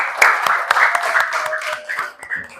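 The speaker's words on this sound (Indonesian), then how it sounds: "Tepuk tangan dong untuk kita hari ini." Children clap their hands in a classroom, a run of separate, uneven claps close by, with young voices chattering through the short burst.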